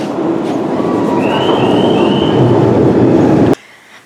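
A metro train rumbles loudly nearby with a thin metallic squeal from the wheels, then the noise cuts off abruptly near the end.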